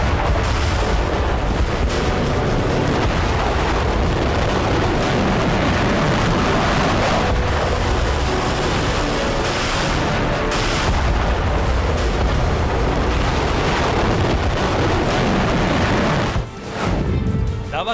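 A Chinese land-based anti-ballistic missile interceptor test launch gives a loud, continuous, rumbling roar that fills the whole stretch without letup, then dips briefly near the end.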